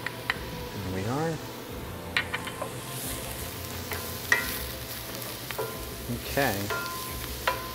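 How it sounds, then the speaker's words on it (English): Garlic sautéing in a pan with a constant close sizzle and occasional utensil clinks and stirs, while a person speaks briefly over it. "Just saute this really quick. All the garlic is gonna go in there."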